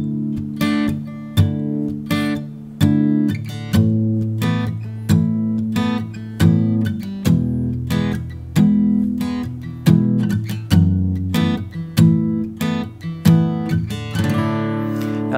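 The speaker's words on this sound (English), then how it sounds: "every time you go down, mute the strings as you strum." An acoustic guitar strums chords with palm muting near the bridge, giving a steady, clipped rhythm of short, punchy downstrokes played close and alone, with no voice over it.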